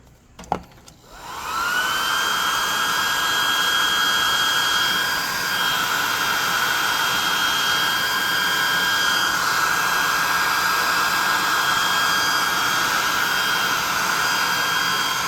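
A hot air gun, essentially a hairdryer, used in crafting a Darkmantle miniature, clicks on and then blows with a steady loud whoosh and high whine that holds unbroken for over ten seconds, close and alone.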